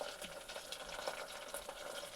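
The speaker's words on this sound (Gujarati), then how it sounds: "આપણા મસાલા પણ સારી રીતે કકડી ગયા છે" Spices crackling in hot oil for a khichdi tempering, a steady close sizzle with dense popping and spitting throughout, no voices.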